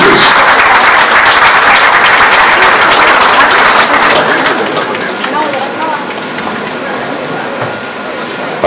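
Loud, dense applause from an audience at a public safety forum, where young pageant princesses are presented. It is strongest at first, eases slightly midway and keeps going with voices mixed in.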